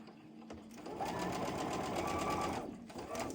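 Sewing machine chain stitching fabric, running in a steady, close whirring burst of under two seconds, framed by shorter stop-start runs at either end.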